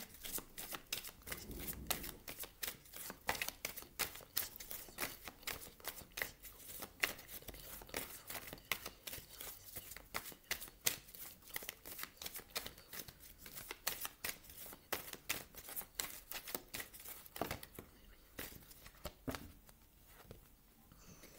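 Tarot cards are shuffled steadily for about twenty seconds, a dense stream of quick riffling slaps and soft flutters, close and fairly quiet with no one speaking.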